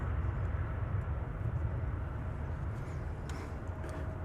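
American Airlines Flight 1279 departing DFW Airport, a broad steady jet roar heard from a distance at moderate level, holding constant across the moment with no voices over it.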